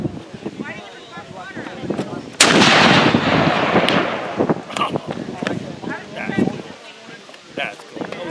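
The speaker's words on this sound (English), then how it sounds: "I was shooting a cannon" A cannon fires once at a North-South Skirmish Association shoot, a sudden loud blast followed by a long rumbling, decaying roar, with wind on the microphone and people talking before and after.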